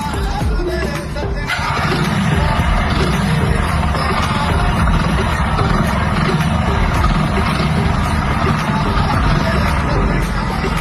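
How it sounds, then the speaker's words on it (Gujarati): Engine running, built in Blender on a Patel auto from Surat, heard as a steady, dense roar that holds at an even loud level throughout, without pauses or clear rhythm. "તમે એન્જિનમાં અવાજ મેં સાંભળો."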